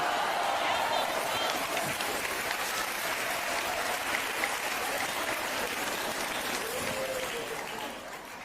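Church congregation applauding, a sustained wash of many hands clapping that fades slightly toward the end, with voices heard through it.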